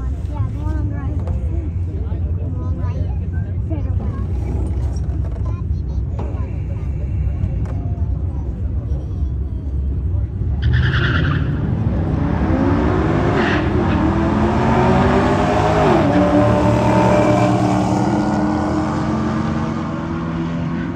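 Dodge Challenger and Charger racing at a drag strip at National Trail Raceway in Ohio, their engines building into a loud roar midway through; people talk throughout.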